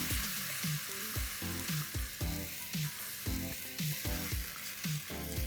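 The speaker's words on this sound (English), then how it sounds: "Mix this well and cook this for like a minute or so." Tomato paste cooking in a pan for a plant-based chicken seekh kebab masala gravy, a steady close sizzle and fry with rhythmic stirring scrapes throughout.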